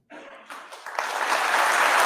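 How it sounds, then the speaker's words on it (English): A TEDx audience breaks into applause after a brief pause, scattered claps quickly swelling into full, steady clapping that holds to the end. "That's an applause line now"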